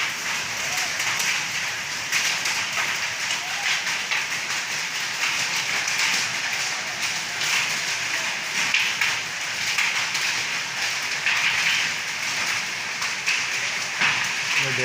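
Hailstones pelting down on a road create a steady, heavy rattle and hiss that stays even and unbroken for the whole stretch, with no voices.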